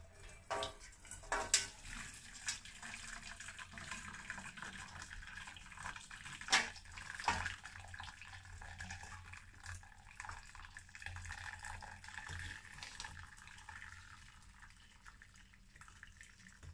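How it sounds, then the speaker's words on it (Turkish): Water steeped with walnut shells is poured through a strainer, giving faint trickling and a few soft splashes early on, then a quiet, steady dribble with no voices. "şimdi bu suyumuzu bir süzgeç yardımıyla süzelim"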